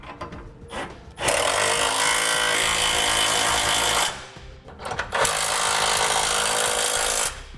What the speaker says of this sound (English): now we'll use a 3/4 inch socket and snug down our hardware